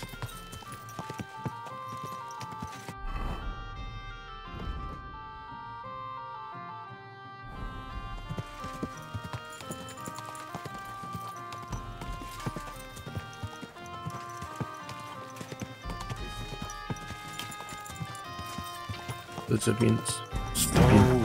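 Horse hooves clip-clop steadily over a music bed in the video game Kingdom Come: Deliverance II, with occasional voices and a louder rustle near the end.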